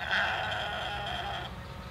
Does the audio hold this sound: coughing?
no